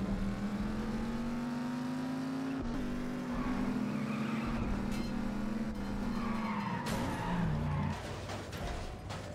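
A car in The Saboteur video game skids and roars through a hit-and-run crash, with a steady loud engine drone, tire screeches and a sharp impact partway through.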